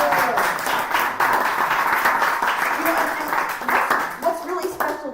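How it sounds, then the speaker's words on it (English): Applause from an audience at a house concert, a steady wash of many hands clapping throughout, with some voices mixed in. "let's give a nice round of applause to Jeff"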